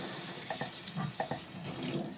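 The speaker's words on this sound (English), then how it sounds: "we're turning the water back on." Water flows from a supply line into a steam dryer hose once the tap is turned back on, a continuous hissing rush with a few gurgling bursts, close and steady.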